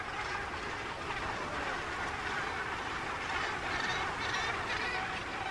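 A huge Cape gannet colony of some 65,000 pairs calls at once, a dense, steady wall of honking, cackling cries with no pauses, loud and continuous throughout.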